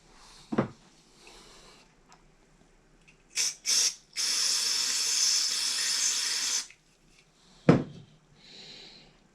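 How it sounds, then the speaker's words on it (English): Contact cleaner sprays into a key switch on a BBC Micro keyboard with short hissing bursts and then a sustained spray of about two seconds, framed by sharp knocks of handling the can. "Let's just get some contact cleaner in there."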